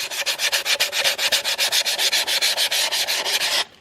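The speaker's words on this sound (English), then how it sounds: "A little bit of sanding" Rhythmic back-and-forth sanding strokes on an intake manifold, close and steady, about two strokes per second, stopping abruptly near the end.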